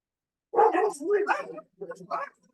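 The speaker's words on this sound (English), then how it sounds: "Sorry about the dogs." A few sharp, close dog barks in quick bursts, with a short pause before the last couple of yips.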